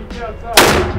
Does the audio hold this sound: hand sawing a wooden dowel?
no